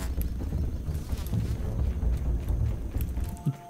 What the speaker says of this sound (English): The air fills with the buzz of a giant blood-sucking mosquito.